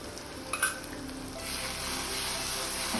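Mustard seeds, white mustard and ground seed fry with onions in a hot pan, giving a steady close sizzle and crackle that grows louder and denser partway through, with no talking.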